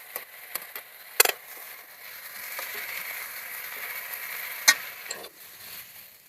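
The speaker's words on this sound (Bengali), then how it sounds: "আর এই তেলে এঁচড়গুলো ভেজে নেব" Pieces of raw jackfruit frying in hot oil in a pan, a quiet, steady sizzle broken by a few sharp crackles and pops, with no voices over it.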